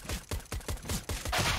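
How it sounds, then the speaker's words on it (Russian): Bursts of rifle gunfire from Counter-Strike on the Dust2 map during a pro esports match, rapid repeated shots in a steady rhythm, loud and close with a denser spray at the end. "очень сильная стрельба"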